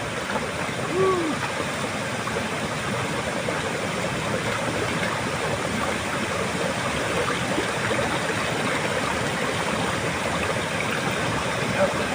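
Water from a river streams steadily while produce is rinsed in it, a broad continuous rush filling the whole stretch at moderate level, with no clear speech over it.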